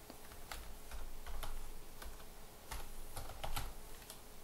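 Steady typing on a computer keyboard, with quick, light key clicks in an uneven rhythm over a constant low background hum.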